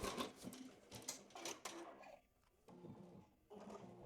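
A Ricoma embroidery machine stitching a hat: rapid, rhythmic mechanical chattering and clicking at a fairly quiet level, with short pauses and bursts of stitching and no talk.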